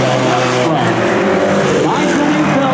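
Hornet-class race cars roar through a dog leg bend while battling for the lead, engines loud and continuous with some tire noise, under a commentator's voice.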